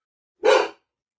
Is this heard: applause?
no